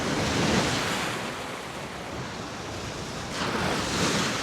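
Strong sea surf breaking at the shore at Colwyn Bay, a continuous loud wash of waves with wind buffeting the microphone, swelling again near the end, no voices.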